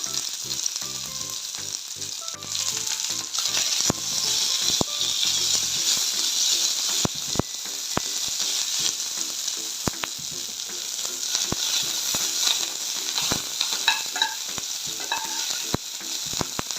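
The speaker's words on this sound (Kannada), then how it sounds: "ಮೆಣಸಿನ್ಕಾಯಿ, ಕೊತ್ತಂಬರಿ, ಪುದೀನ, ಕೊತ್ತಂಬರಿ ಎಲ್ಲ ಹಾಕ್ಕೊಂಡು ಫ್ರೈ ಮಾಡ್ಕೊಳ್ಳೋಣ." Green chillies, coriander and mint fry in a pan for vegetable pulao, giving a loud, steady sizzle with occasional stirring clicks and scrapes throughout.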